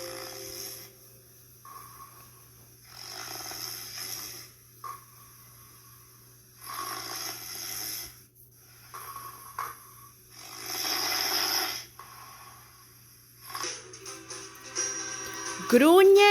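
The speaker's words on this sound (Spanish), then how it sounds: "Se acuestan boca arriba, duermen y roncan mucho." Cartoon bears sleeping on their backs snore loudly in long, repeated rasping breaths, about seven cycles at a steady slow rhythm, alone with no talk over them.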